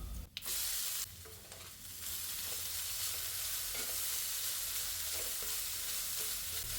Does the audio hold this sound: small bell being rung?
no